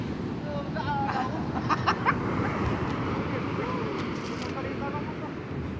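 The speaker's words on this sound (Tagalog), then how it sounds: "mga malaking alon." Loud ocean surf roars continuously during a boat crossing, with wind buffeting the microphone and faint voices heard beneath the constant wash of big waves.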